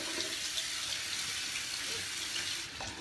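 Tap water runs steadily into a sink during an eyebrow grooming routine, a continuous close hiss that eases slightly near the end, with no talking.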